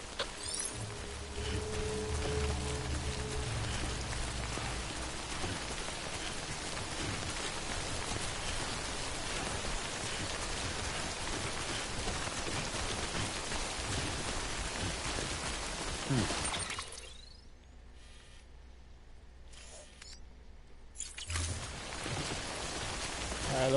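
Steady rain in the video game Death Stranding, a dense broadband hiss of falling water that runs continuously, briefly drops away to near silence, then returns near the end.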